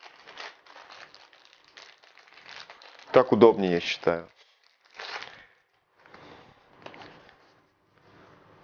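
Plastic ziplock bags holding playing cards from a board game being handled, bursts of close crinkling, the loudest in the middle, with someone talking quietly at intervals.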